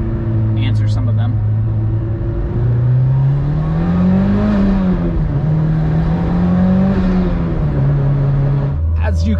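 A 15-year-old car with 158,000 miles drives along, its engine droning steadily from inside the cabin with gentle rises and falls in pitch and a brief shift near the end.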